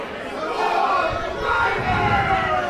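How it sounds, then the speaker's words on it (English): A capacity crowd at an indoor professional wrestling event chants and cheers together in a continuous, roaring wall of voices that swells slightly midway. "the capacity crowd chatting along"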